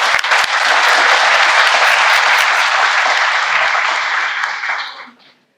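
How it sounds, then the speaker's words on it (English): A large audience at a national law conclave bursts into loud, dense applause that holds steady for several seconds before tapering off quickly to silence. "I now request everyone to give a big round of applause to welcome sir."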